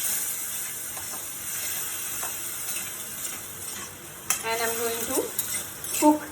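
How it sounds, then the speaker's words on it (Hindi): A spoon stirring barley risotto cooked in vegetable stock in a pan, a soft steady scraping with gentle bubbling, and a few sharper metallic clinks near the end. "फिर और चलाएं बार्ली को"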